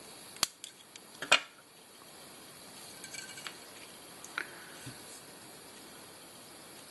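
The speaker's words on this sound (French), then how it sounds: "je coupe la pointe de ma plume." Scissors trim the tip of a feather at a fly-tying bench: one or two sharp, close snips near the start, then a quiet room with faint handling noise.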